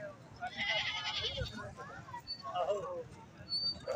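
Small hill-breed goat bleating at a busy livestock market, with crowd chatter and voices mixing around the calls; several harmonic bleats stand out near and moderately loud over the background.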